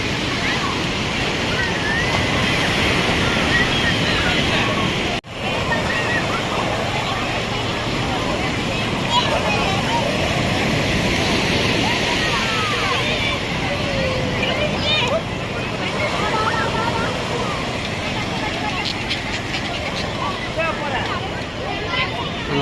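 Constant rushing surf at Marina Beach with a murmur of many people in the background, one voice talking over the steady roar of waves.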